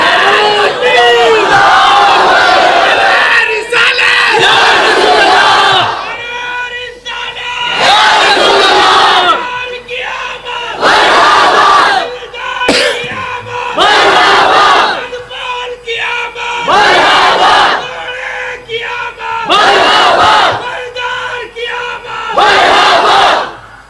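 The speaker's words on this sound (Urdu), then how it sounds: "ذرا اچھے لگا یار نعرے، یہ کیا کنجوس ہے؟" A large crowd at a religious gathering for the Prophet's birthday chants slogans in loud, repeated bursts of massed voices, each surge of a few seconds followed by brief lulls, with a speaker's voice between the chants.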